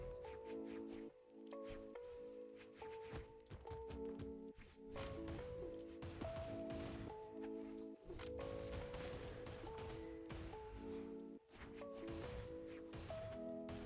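Rapid bursts of blaster fire from a Brawlhalla ranked 1v1 match played as Lucien, dense and continuous over layered game music and hit effects with no pauses throughout.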